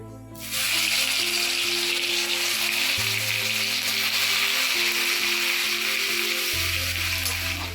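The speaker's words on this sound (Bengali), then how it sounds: "রসুন ফোড়ন দিচ্ছি" Garlic tossed into hot oil with black cumin and bay leaves sizzles steadily while tempering Bengali fried masoor dal in a village kitchen, a close, continuous frying hiss with a few shifting tonal hums underneath.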